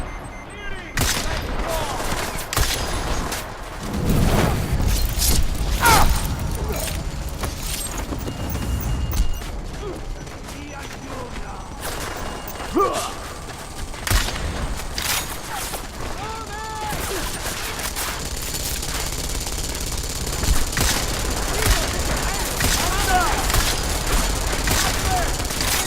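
Turret gunfire and bursts of automatic shooting in the video game Deus Ex Mankind Divided, loud and near, with mechanical clanks and booms and shouted combat voices over the racket throughout.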